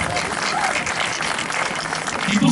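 Audience applause fills a hall after a choir performance at a community friendship festival, a dense, even burst of many hands clapping continuously at close range.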